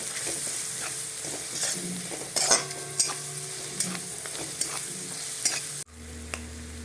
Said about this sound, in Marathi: लसण आणि अद्रकची पेस्ट टाकणार आहोत चांगलं आपण एक दोन मिनटं हलून घ्यायचं